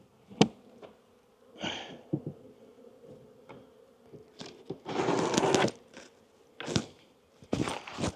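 Honey bees buzz around an open hive box, with intermittent close buzzing bursts from single bees passing near, a faint background hum, and occasional handling knocks.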